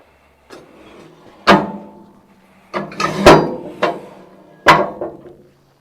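Metal body panels of a 1946 Willys CJ-2a Jeep being lifted off the chassis, several separate loud clanks and knocks spaced a second or so apart, with no talking.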